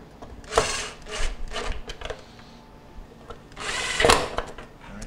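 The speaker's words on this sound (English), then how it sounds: "now I'm going to put the bottom two screws in to mount this." Short whirring bursts of a power driver sinking screws to mount the ice dispenser solenoid in a GE refrigerator, about five close bursts of varying length separated by brief pauses.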